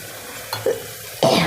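Spiced mung bean pulao is stirred in a pan in a few short scraping strokes, with a light sizzle; the last stroke is loudest and longest.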